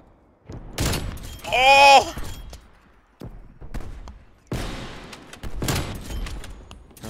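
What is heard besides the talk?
gunfire in the video game Call of Duty Cold War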